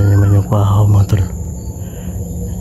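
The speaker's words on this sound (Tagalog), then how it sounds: "Andyan na naman yung kwahaw mga tol." A loud, low, drawn-out kwahaw bird call sounds close by at the start against steady outdoor background noise, with a voice speaking briefly near the middle.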